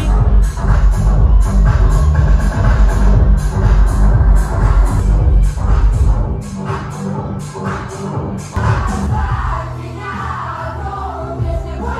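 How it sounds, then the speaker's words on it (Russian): A crowd of fans at the start of a fan meet in Kazakhstan fills the space with loud, sustained high squeals and screams, thick and continuous, with scattered thumps and voices mixed in. "Если вы слышите эти визги, это звук начала."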